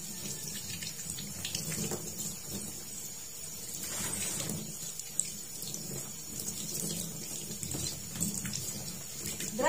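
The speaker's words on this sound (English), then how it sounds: "Rinse hands with water." Tap water runs steadily as hands are rinsed under a faucet at a handwashing sink, a continuous moderate splashing hiss with no talk.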